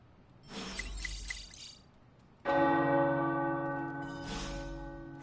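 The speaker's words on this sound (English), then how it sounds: "The tower bells are ringing." A deep tower bell in the video game Midnight Suns strikes once and rings on with a long, humming decay, set between bursts of clattering, glassy noise that come before and after it.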